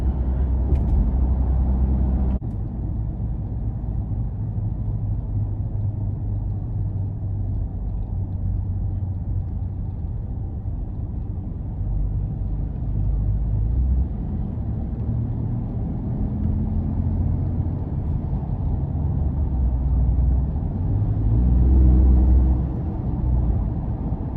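Inside a 2019 Ford F-150 Raptor pickup truck on the move, a steady low road rumble and engine drone holds throughout with no talking, loud and continuous from start to finish.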